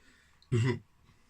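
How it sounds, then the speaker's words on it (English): A single short, guttural burp after a sip of Christmas craft beer from To Øl, close and fairly loud, lasting about a quarter second in an otherwise quiet room. "lovely burp"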